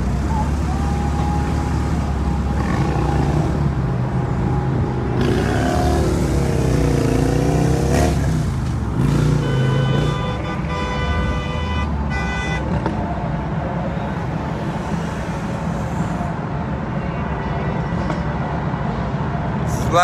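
Cars and motorcycles moving along the Dan Ryan Expressway behind a motorcycle club, engines revving and rumbling close by, with a horn toot and a rising whine partway through, and some talk mixed in.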